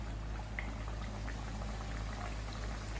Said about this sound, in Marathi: आता आपण कचोऱ्या तळून घेऊया।